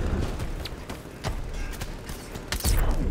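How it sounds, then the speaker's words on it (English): Scattered gunfire from enemies shooting at the player in Batman: Arkham Knight, a few sharp cracks spread over a few seconds with a louder burst near the end, amid busy game noise. "I'm getting shot at."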